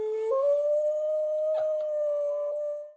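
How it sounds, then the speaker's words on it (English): Dogs howl in one long, sustained, rising and wavering cry with whining overtones, close and fairly loud, lasting about three seconds before trailing off. "The whining, the howling."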